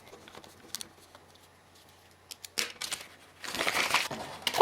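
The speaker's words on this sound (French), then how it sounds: "chacun écrit son morceau sur un bout de papier qu'il froisse" A piece of paper crumpled into a ball by hand: soft, scattered crinkles early on, then a louder, dense burst of crackling and crushing near the end, close and alone.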